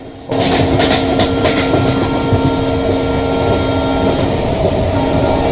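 Steady rumbling roll of the Kottayam-Nilambur Express (16326) rounding a curve in the Railworks train game, loud and continuous, with faint rhythmic clicks from the wheels and no talk.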